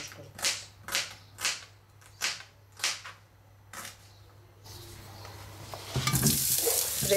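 An artichoke goes into a frying pan: a series of rhythmic, swishing strokes, then a sizzle that rises into loud, crackling frying in the final seconds.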